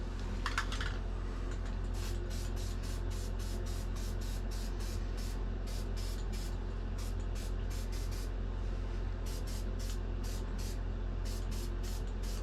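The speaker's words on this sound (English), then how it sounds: "I'm just going to go ahead and spray this just so you can see what it's going to look like" Short hissing bursts from a spray paint can coating a handmade miniature pine tree, trunk included, repeating in a quick uneven rhythm at close range over a low steady hum.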